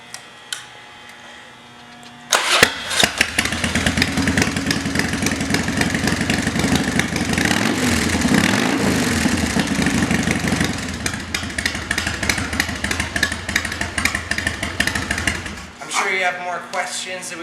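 A 2000 Harley-Davidson Dyna Wide Glide with Vance and Hines exhaust fires up, then rumbles loudly and close with repeated throttle revs over a steady idle before cutting off near the end.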